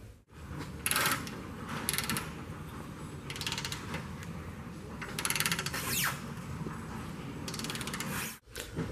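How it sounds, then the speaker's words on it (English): A torque wrench ratchets while tightening the large bolts of a bolt-on trailer hitch receiver on a Land Rover to 110 foot-pounds. Close, repeated bursts of mechanical clicking are separated by short pauses, with no talking. "I've torqued the two big bolts to 110 foot-pounds."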